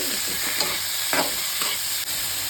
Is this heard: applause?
no